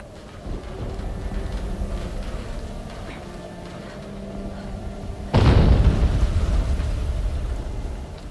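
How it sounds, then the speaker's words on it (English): A sudden deep explosion booms in the video game Horizon Zero Dawn Remastered, cutting in loudly after a stretch of low ambient rumble and decaying slowly. "An explosion."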